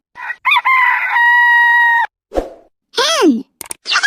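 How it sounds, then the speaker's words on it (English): A rooster crows close by with a long, loud, drawn-out cock-a-doodle-doo, followed by a few clucks and squawks. "rooster"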